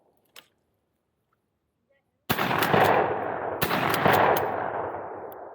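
Two loud, sharp shotgun blasts ring out outdoors about a second apart, each followed by a long, rolling echo, after a stretch of near silence.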